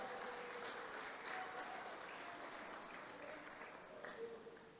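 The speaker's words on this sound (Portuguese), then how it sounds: "Dê um aplauso, Senhor, pela vida dela." A church congregation applauding at a Portuguese-language worship service, a steady, soft wash of clapping from a room of people, fairly distant, with faint voices and tonal hum underneath.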